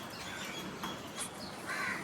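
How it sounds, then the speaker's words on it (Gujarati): A crow caws along with a few scattered chirps from mynas and other small birds feeding outdoors in a village, faint and somewhat distant over a low, steady background hum. "એક કાગડો છે અને કાબરો છે અને બીજા પક્ષીઓ છે થોડા"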